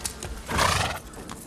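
A horse in a stable gives a short whinny in the middle of a brief clip, with a few soft hoof shuffles around it, close by.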